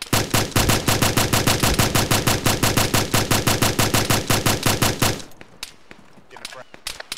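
Rapid machine-gun fire in a ShackTac military video game, a loud, close, regular burst of about forty shots in five seconds that stops abruptly, leaving scattered fainter distant shots.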